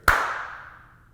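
A single sharp hand clap rings out in a room under construction, with only the basic structure in place, followed by a bright echo that decays smoothly over about a second.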